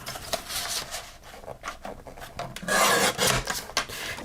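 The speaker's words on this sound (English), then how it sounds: "So first let me just trim the front off." A paper trimmer cutting the edge off a photo at a craft table, a close rasping, scraping slide that repeats in short strokes and grows louder near the end, with no talk.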